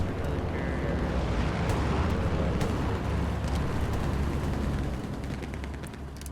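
Machine gun fire in the game Hell Let Loose: a dense, loud, unbroken roar of rapid shots that eases slightly near the end, with no talking.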